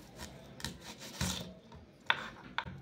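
A knife slices the ends off both sides of a large onion, giving a few short, soft rasping cuts against the board, close and quiet, with no talking.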